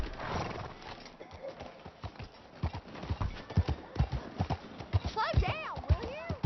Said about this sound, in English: I'm gonna break all the speed limits on this horse.